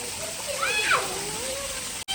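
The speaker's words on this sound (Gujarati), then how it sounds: "પાણી ભરવાનું ચાલુ થઈ ગયું છે" Water runs steadily into a large, clean farm swimming pool with a constant broadband rush, while a voice talks over it throughout.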